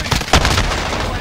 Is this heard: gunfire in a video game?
yes